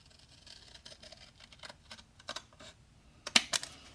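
Scissors cutting, a series of faint, irregular crisp snips and clicks that grow slightly louder and denser toward the end, with no talking.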